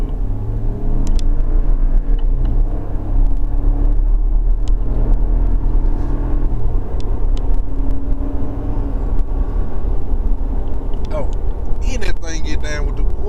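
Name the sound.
lifted 2020 Ram pickup truck engine revving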